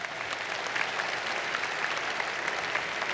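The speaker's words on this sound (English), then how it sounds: "Let's give them again another round of applause" Sustained applause fills a hall for new graduates at a 2018 engineering undergraduate commencement, a steady, dense wash of many hands clapping at moderate distance with no break.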